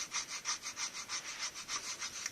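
A triangular needle file rasps back and forth across MDF while carving a miniature truck, about a dozen quick, even, scratchy strokes in a steady rhythm, close and fairly faint.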